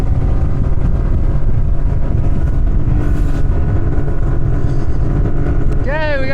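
A 1995 Bass Tracker Pro 17 with a new Tohatsu 60HP outboard runs at full throttle, a steady loud engine drone with water and wind rush throughout, and a brief high whine near the end.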